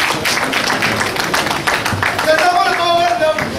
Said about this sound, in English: Are we clapping, please?